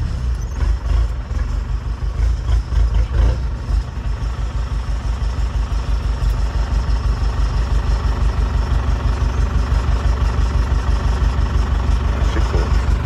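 A Chevrolet D20 pickup with straight exhaust, open pump and 33x12.5 tyres idles loudly and close, its deep rough rumble pulsing steadily with a brief rev near the start, no talk.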